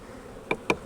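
Honey bees at a hive with its bottom board being tilted buzz faintly in the background, with two brief, close knocks of the wooden board.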